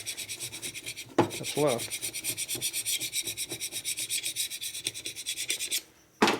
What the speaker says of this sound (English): you come back with a scraper. And it takes off the residue